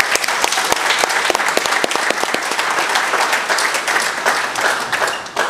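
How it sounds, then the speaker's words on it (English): Audience at a talk applauding a speaker, a dense, steady sustained clapping from many hands at close range with no talk over it. "how about a round of applause for our speaker?"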